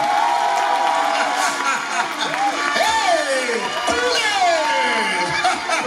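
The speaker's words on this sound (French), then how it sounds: "on applaudit très fort" An audience at a cultural day event cheers, whoops and shouts loudly in a dense, sustained crowd roar with some clapping mixed in, and a voice calls out briefly.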